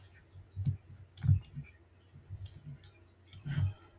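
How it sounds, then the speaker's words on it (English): A computer mouse clicks close by in a few short, irregular bursts, some as quick double clicks, over a quiet background. "using your mouse and scrolling around by holding and clicking on the right"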